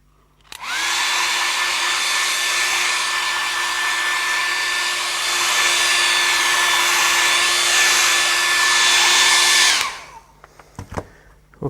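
A hair dryer runs steadily on a freshly painted canvas for about nine seconds, a loud, even blowing whir with a constant pitched motor tone, starting and stopping abruptly, with a few faint clicks and handling noises after it switches off.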